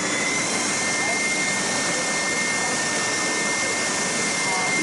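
A Triton TSPST450 oscillating spindle and belt sander runs with a continuous, loud, even whirring roar and a steady motor whine throughout.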